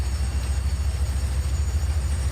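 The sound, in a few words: train running in video game Farming Simulator 25 mod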